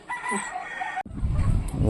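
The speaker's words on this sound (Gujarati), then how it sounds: "અમારા કુકડા પૂરવાનું ચાલુ થઈ ગયું" Roosters and hens crow and cluck close by as they are shut into their pen, a crow ringing out before scuffling and clucking take over.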